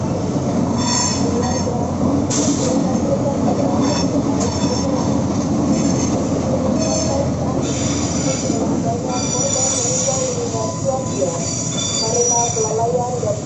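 A very long train rolls through a railroad crossing in Indonesia, a steady loud rumble of wheels on rails with repeated high wheel squeals running through the whole passage, close by and continuous.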